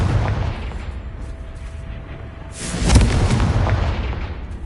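A Confringo spell blast in the video game Hogwarts Legacy, a sharp booming burst that swells out of a rumbling game soundscape near the middle and fades with a short tail.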